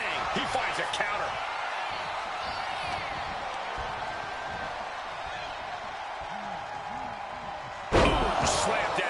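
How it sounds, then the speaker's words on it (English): A wrestler is slammed down hard in the WWE 2K26 video game, over a constant roar of cheering arena crowd and game noise. A sharp, loud impact lands near the end. "Ooh, slammed down hard."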